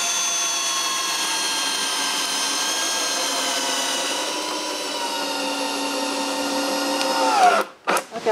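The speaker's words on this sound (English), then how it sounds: "Then I can screw the first 4 screws." A power drill drives screws into timber while a woodshed is built at a cottage, with a steady high whine held for several seconds before it winds down and stops, close and loud.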